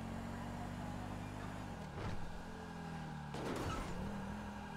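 Engine of a police Dodge Charger in GTA V, lacking a V8 sound; a steady low engine drone that dips and surges twice as the car shifts or revs, heard alone at moderate level.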